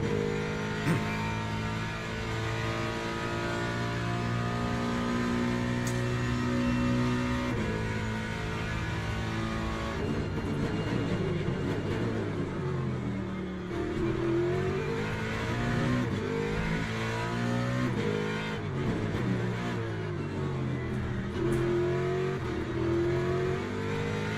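A race car in Le Mans Ultimate, a World Endurance Championship sim at Austin, runs flat out down a straight, its engine note rising and shifting through gears in a loud, continuous drone with no talk over it.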